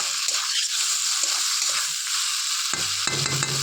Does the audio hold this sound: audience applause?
no